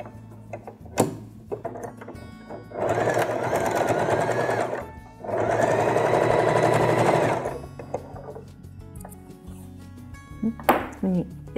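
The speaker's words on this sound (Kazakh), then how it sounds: "резеңкенің ұшын дәл осылай тігіп шығамыз" A sewing machine stitches elastic onto fabric in two steady whirring runs of a few seconds each, separated by a short pause and framed by quieter clicks and metallic clinks.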